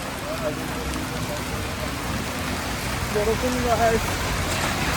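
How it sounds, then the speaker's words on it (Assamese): Steady rain hisses across the whole stretch, a dense broadband patter with faint voices murmuring beneath it. "বঢ়িয়া বৰষুণ দি আছে"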